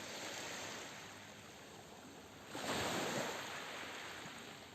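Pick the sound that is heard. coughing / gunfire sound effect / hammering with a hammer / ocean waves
ocean waves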